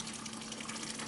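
Hot boiled cranberry liquid is poured into a jar, a steady close gushing splash lasting about a second with no talk.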